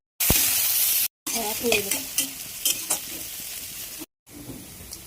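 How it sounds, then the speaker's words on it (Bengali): Cooking oil goes into a hot pan for a boiled chickpea dish and sizzles loudly, crackling and bubbling in bursts that are broken by short silent cuts, close up and without voices. "তো এখানে তেল দেবো, দেখতে থাকেন। পরিমাণ মতো তেল দিলে হলো"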